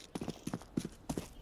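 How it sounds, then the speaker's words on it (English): Footsteps in Counter-Strike during a FaZe vs Legacy match at the BLAST Austin Major: a quick, even run of soft thuds, four or five steps in under two seconds, heard alone without talk. "And these footsteps are heard, so Elige also moving over."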